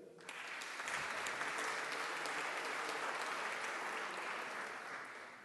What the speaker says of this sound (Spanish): un fuerte aplauso para quien hoy día nos acompañará con su charla